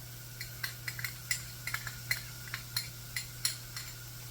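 Peppers, onion and garlic being stirred in a pan for marinara sauce, with light, scattered utensil clicks and scrapes against the pan over a low background hum, no voices.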